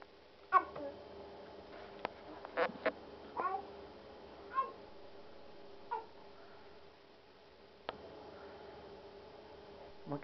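A young child imitates a cat's meow, producing several short, high meowing calls spaced irregularly across a quiet room, with brief soft voices in between.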